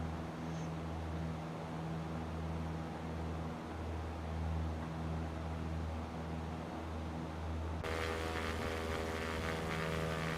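Cessna 172SP piston engine in the X-Plane 11 flight simulator, throttled back to 2,500 RPM, drones steadily and loudly throughout with a low, even hum; a brighter broadband layer joins in near the end.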